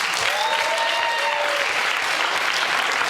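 Audience at a comedy show breaks into steady, lively applause, the whole room clapping in a continuous wash for a few seconds with a faint whistle or cheer in the mix.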